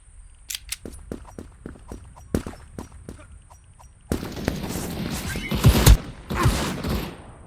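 Rifle gunfire in a video game: a string of separate sharp single shots is followed by a sustained, louder burst of rapid automatic fire and impacts, with no speech.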